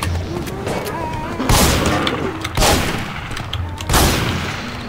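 Video game gunfire in Garry's Mod, three loud broadband bursts roughly a second apart over a busy rumbling game background, with some voice activity mixed in.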